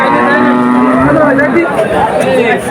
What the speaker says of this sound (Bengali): অনেক গরু আছে এখানে